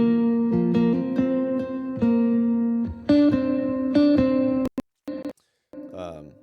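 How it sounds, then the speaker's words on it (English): A low guitar and a mandolin play a repeating hook together for a song, the notes plucked in a steady rhythm that stops near the end, then a brief voice speaks. "So the low guitar and the mandolin."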